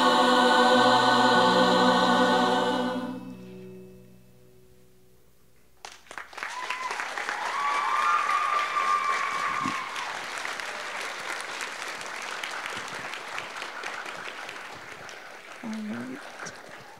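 Audience applause for a choir at a school Women's History Month assembly, breaking out after a sung ending and continuing as sustained, fairly loud clapping from a large crowd.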